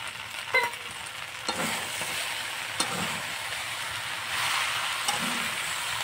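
Elephant apple pickle with sugar is stirred in a pan, giving a steady low sizzle with occasional scraping taps of the spoon, close and continuous without any voices.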